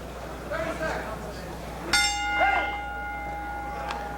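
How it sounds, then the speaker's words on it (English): A boxing ring bell rings to end the first round of a heavyweight bout, one sharp clear strike ringing out and lingering over crowd noise and commentary, with a fainter second clang near the end. "And the bell ends round 1"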